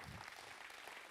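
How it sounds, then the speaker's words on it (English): Brief applause from a gathering at a grand finale event, a steady wash of clapping at moderate level with no voices standing out. "Yes, applause for everybody."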